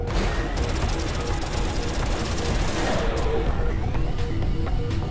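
Rapid cannon fire from a spacecraft in the space combat game Everspace 2, a dense continuous barrage of loud bursts with crackling impacts throughout, close and dominant.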